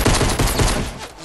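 Rapid pistol shots crack out in quick succession in a video game firefight, loud and close, with several sharp reports fading slightly toward the end.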